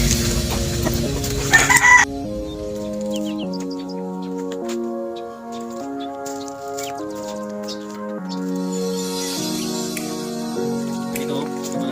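Chickens and a rooster on a farm, with loud clucking and squawking in the first two seconds, then steady tonal harmonic sounds continue over the rest of the clip.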